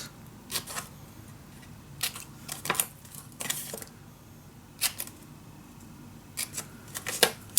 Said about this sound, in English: Okay, and then I'm going to cut this down. And I'm going to cut the corners.